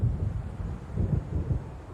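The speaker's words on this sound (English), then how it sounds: "It seems there's a storm coming." Low thunder rumbles through a brewing storm in the video game Alan Wake Remastered, a couple of deep rolling swells over a short moment, with no talk.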